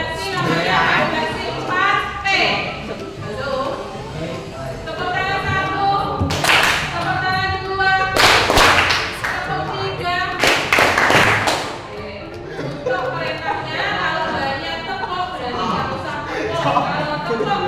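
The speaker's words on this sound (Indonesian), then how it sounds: "Tepuk tangan" A group in a classroom claps hands in short, rhythmic bursts, with sharp loud rounds of patterned clapping between stretches of chatter and a speaking voice.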